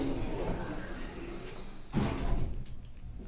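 Otis lift doors slide shut inside a shopping centre with a short rolling rumble and soft thud, close by over steady mall hum.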